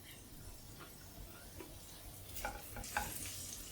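Chopped ginger frying in oil in a pan, a soft steady sizzle with faint crackles and a couple of small clicks, heard alone at low level.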